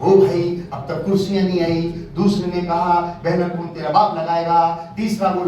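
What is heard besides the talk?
None of the usual background noises is heard.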